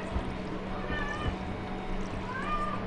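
A cat in a farming video game meows several times in short, distinct cries over quiet background game sounds.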